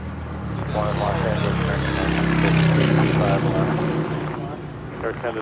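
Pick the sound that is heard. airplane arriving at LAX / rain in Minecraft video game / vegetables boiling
airplane arriving at LAX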